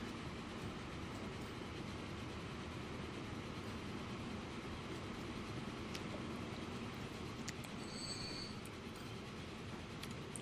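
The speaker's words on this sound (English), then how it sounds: "Here we can see this train coming back up." A train in the Transport Fever railway game rumbles along steadily, a continuous broad roar of wheels and carriages with faint high squeals near the end and no talking.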